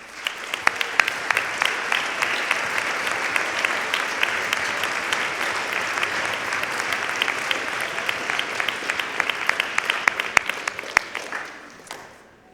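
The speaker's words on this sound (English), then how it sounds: "Please stand and let us give you a round of applause." Audience at a junior high school band winter concert gives a round of applause, steady crowd clapping with sharp individual claps standing out, running about eleven seconds before fading away.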